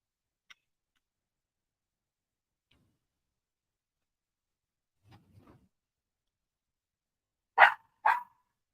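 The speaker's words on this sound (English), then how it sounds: "she barks at the mop." A small puppy barks at a mop at a seaside restaurant: two sharp, close barks near the end after long near-silence broken by faint clicks and a soft shuffle.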